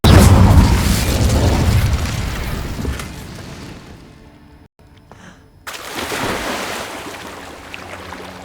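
A loud whooshing, roaring burst of fire from the Incendio spell in Hogwarts Legacy, fading into a low rumble before a short gap and a second swelling blaze.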